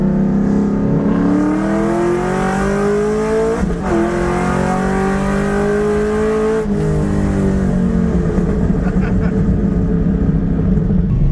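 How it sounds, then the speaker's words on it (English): A supercharged 5-litre Ford FG2 Miami at a drag-style race, engine loud and close, revving through rising pitch sweeps with two gear changes, then settling into a rough, blaring roar, with no talk. "Race is an FG2 Miami. It's the supercharged 5 litre."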